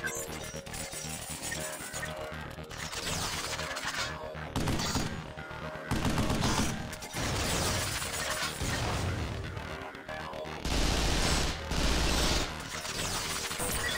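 Futuristic weapon fire in the third-person shooter Vanquish comes in loud, crunchy bursts and shattering blasts. Several separate volleys are broken up by brief lulls, with game effects and music in the background.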